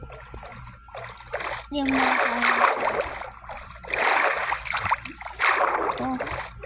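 Minecraft character swimming through water, with repeated splashy bursts in rhythmic strokes under a child's chatter.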